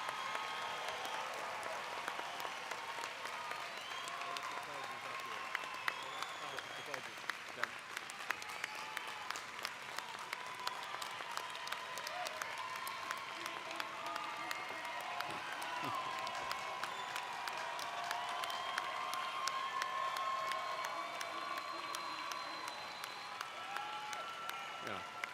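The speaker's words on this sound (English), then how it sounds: "a big round of applause for all of our graduates" A large audience at a dentistry school commencement breaks into sustained applause for graduates, dense even clapping filling the hall for the whole stretch, with a few faint voices mixed in.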